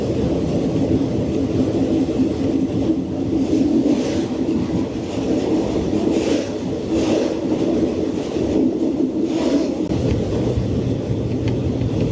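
Passenger train running steadily along rails, a loud continuous rumble with rhythmic clatter from the wagons and brief brighter swells, no talking over it.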